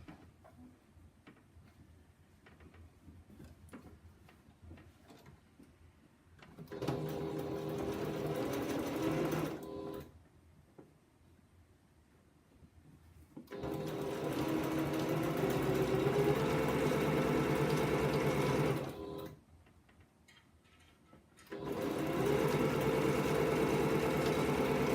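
A sewing machine stitches a quilt row in three loud bursts with quiet gaps between them, running close and steady with a mechanical hum.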